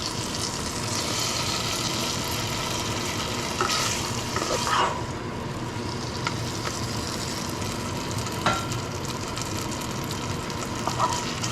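A simple beef and pepper stir-fry sizzles steadily in a pan, a continuous close frying hiss with a few brief clinks and stirring scrapes, and no one speaking.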